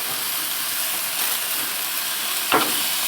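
Spicy chicken breast cooking on a hot grill, giving a steady, close sizzle and hiss with a brief louder crackle near the end, with no talk.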